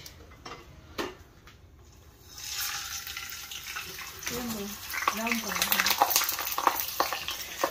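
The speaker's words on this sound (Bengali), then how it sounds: "এবার এই গরম তেলের মধ্যে একটা ছাড়ব। প্রথম লুচিটা ছাড়ছি।" A first frozen luchi, still carrying a little water, drops into hot oil and sets off a broad, bubbling sizzle that swells and stays steady, with a voice talking briefly over it.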